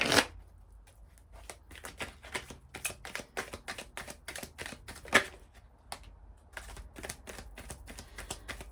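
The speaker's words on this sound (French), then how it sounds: "On va prendre quelques cartes de l'oracle du masculin." A deck of oracle cards of the masculine is shuffled close up, producing a rapid, continuous run of crisp riffling flicks and taps over several seconds with brief pauses and no talk.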